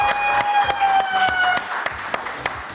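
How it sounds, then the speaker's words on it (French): Studio audience clapping for the host on a French comedy TV news show, moderately loud with individual claps standing out over a sustained musical tone, tapering toward the end. "On l'applaudit très très fort."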